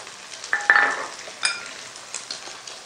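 Fried egg with green onion, capsicum and green chili stirred in a pan: a few scraping stirs and soft sizzling, loudest near the start and then continuing as lighter scrapes, close by with no talk.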